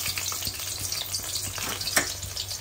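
Bay leaf and onion crackling in hot oil, a dense close sizzle with small popping spatters and a sharper burst near the end, no speech.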